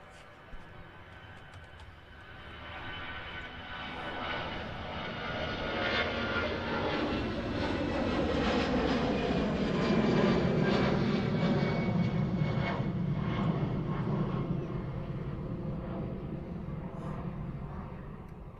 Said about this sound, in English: The EasyJet A320 there that just departed is making the return journey back to Milan in Italy.